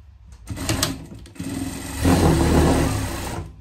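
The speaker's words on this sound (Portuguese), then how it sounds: "Aqui, a gente vai passar uma costura de segurança." Sewing machine running a safety seam on a fabric pet cover, a whirring motor in short bursts, then a longer continuous stitching run, heard close up.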